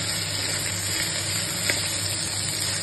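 Ginger garlic paste frying in a pan for veg pulao gives a steady, close sizzle and crackle, even and continuous throughout with no one speaking.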